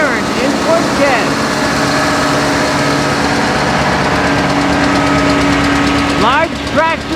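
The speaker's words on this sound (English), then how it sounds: "Large tractors, but also these small Fordsons from Raoul Caron" Small Fordson farm tractors and larger tractors rumble along in a Fort Kent anniversary parade, with a loud, steady, knocking engine drone up close and speech-like sounds mixed into the noise.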